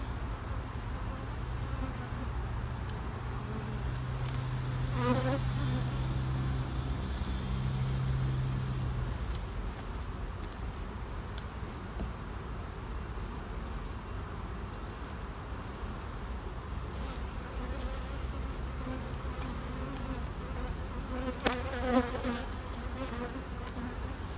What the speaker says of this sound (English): I've got the odd number of bees around me at the moment